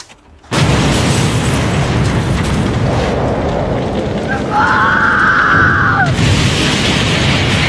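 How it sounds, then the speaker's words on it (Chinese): A sudden loud roaring blast erupts as a camper van is blown apart, rumbling on for seconds, with a high droning tone joining partway through. "房车被炸得粉碎，警长听见了爆炸声"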